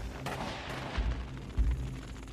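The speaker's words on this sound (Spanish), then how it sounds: "Enseguida comenzamos a oír disparos de mosquete y vimos llamas" Musket gunfire in a documentary about feudal Japan, heard as two or three dull, muffled reports spaced about half a second apart over a low rumbling background, with no voices.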